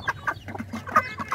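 Poultry chickens in a shed giving a quick run of close, repeated short clucks, alone and fairly clear.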